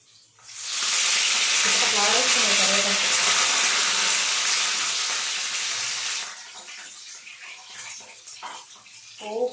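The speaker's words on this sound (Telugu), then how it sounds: "ఇప్పుడు కొద్దిగా కరివేపాకు వేసుకుందామండి" Curry leaves dropped into hot tempering oil for a cucumber chutney burst into a loud, close, steady hiss that lasts several seconds, then fades to quieter crackles and stirring.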